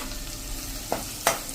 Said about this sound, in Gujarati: હવે એમાં આપણે આ કેપ્સિકમ જે સમાર્યા છે ને એ પણ નાખી દેશું